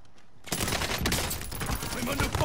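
Rapid automatic gunfire in the video game Warzone, from akimbo Snakeshot Top Break pistols, rattles in a continuous dense burst after a brief quiet moment, loud and close, with a player's voice in the mix.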